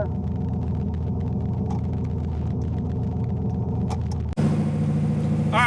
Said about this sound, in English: We're gonna race this twin turbo OBS truck over here.